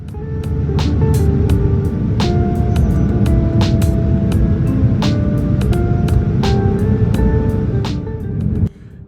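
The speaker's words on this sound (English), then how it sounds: "The journey is almost complete and we are now touching down." Inside the cabin of a Singapore Airlines airliner on approach to Incheon International Airport, a loud, steady roar of engines and airflow carries scattered rattles and thumps of touchdown, then cuts off sharply near the end.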